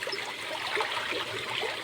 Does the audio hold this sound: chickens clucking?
no